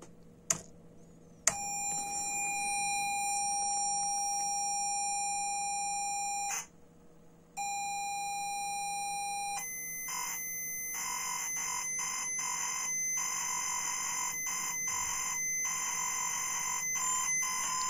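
A ZX Spectrum loading a program from tape: a long steady pilot tone, a short gap, then another pilot tone followed by rapid warbling data bursts, continuous and fairly loud with no talking.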